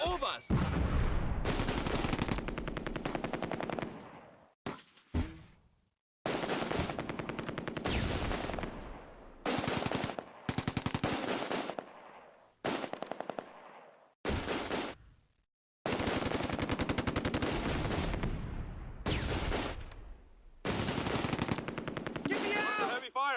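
Heavy machine gun fire in the Close Combat war game, loud chattering bursts lasting several seconds each, repeated again and again with brief pauses between them.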